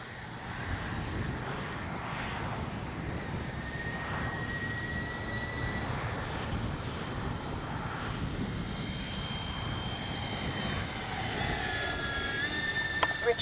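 A Freewing AL37 RC jet climbing into a headwind after takeoff, its steady whooshing engine roar sustained and fairly loud throughout, with no voices.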